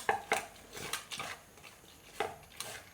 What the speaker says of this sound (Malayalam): ഇനി ഇതെല്ലാം കൂടെ ഒന്ന് മിക്സ് ചെയ്യാമേ.